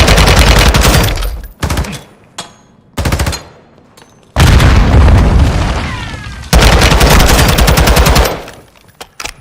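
Call of Duty Modern Warfare 2 firefight: loud, close bursts of automatic gunfire broken by short gaps, with booming grenade blasts and long sustained volleys dominating, no talk over it.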